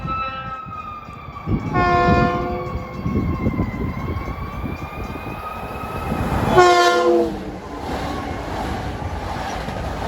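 An express train rumbles past at a station on a commuter railroad line from Atlantic Terminal to Huntington, with a steady roar, sounding two long blasts of its harmonic horn, one early and one louder later.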